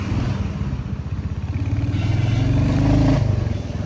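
A motorcycle riding on a rough North Sikkim mountain road, its engine a steady low throbbing rumble with some rattle, rising slightly near the end, close by and without speech.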